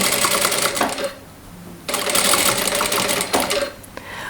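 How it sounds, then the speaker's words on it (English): A sewing machine stitches a ruffle on a linen summer dress in two close, rapid bursts of mechanical chatter, with a brief pause between them. "And now I'm going to sew. So I'm going to sew like this."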